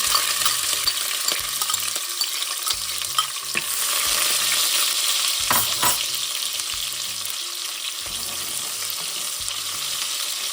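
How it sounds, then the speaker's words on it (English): Scallions and onions fry in a little oil for jollof rice, a bright, steady sizzle close by, broken by rhythmic scraping and stirring of a spoon against the pan, with no talking. "I'm going to fry up my scallion and my onions."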